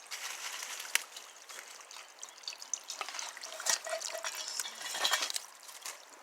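Fresh, cold mountain spring water trickles steadily out of the ground in the Southern Appalachian woods, a soft continuous dribbling stream with small splashes, close by and fairly quiet, with no talking.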